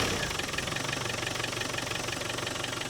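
A 1994 Land Rover Defender 110 with the 300Tdi diesel engine idling close up, a steady rhythmic clatter with an even, regular beat and no voices over it.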